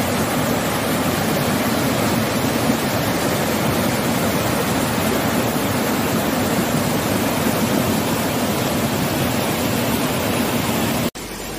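A stream flows steadily near Nà Đoong waterfall, a loud, continuous broadband rush of water heard up close that ends abruptly at the very end.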